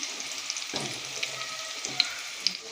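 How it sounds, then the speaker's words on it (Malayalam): Finely sliced small onions fry in coconut oil in a pan, a soft steady sizzle with a few scraping stirs and small pops, moderately quiet and close, no voices. "നമ്മൾ പാനിലേക്ക് വെളിച്ചെണ്ണ ഒഴിച്ച് അതിലേക്ക് കുറച്ച് ചെറിയ ഉള്ളി ചേർത്ത് കൊടുത്തു."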